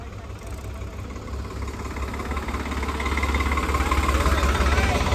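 A Swaraj 855 or Mahindra 585 tractor engine straining in a pulling contest runs continuously with a heavy, throbbing rumble that grows slightly louder and rougher toward the end.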